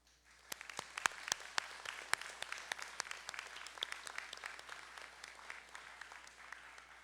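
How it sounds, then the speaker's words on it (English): Quiet, distant applause from a doctoral hooding ceremony audience, a steady patter of many hands with a few sharper nearby claps standing out, running for several seconds. "will you join me in a round of applause to thank them for helping you accomplish all that you have?"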